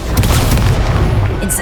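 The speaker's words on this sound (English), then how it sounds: "Incendio! Descendo!" Incendio and Descendo spells go off in Hogwarts Legacy with a dense, booming burst of impact and crackling blast noise across a short, loud moment.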